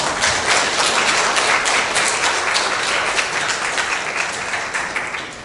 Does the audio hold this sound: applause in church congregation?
yes